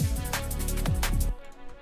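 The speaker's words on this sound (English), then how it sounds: "I have these vocal atmosphere stacks." A dry, layered vocal atmosphere pad for liquid drum and bass, sustained breathy voices with rhythmic pulses, without reverb, cutting off abruptly near the end to leave a faint tail.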